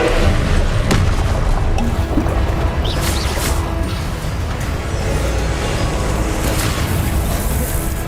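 Confringo explosion spell cast in the video game Hogwarts Legacy, a loud booming blast with crashing debris over dense, continuous battle noise.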